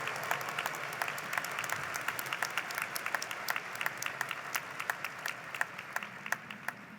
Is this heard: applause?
yes